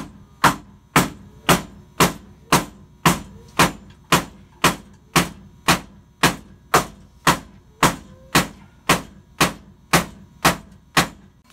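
Steady, evenly spaced hammer blows knocking a part out of a Ford Foxbody drag car during stripping, about twenty loud close impacts at a regular rhythm with nothing else heard.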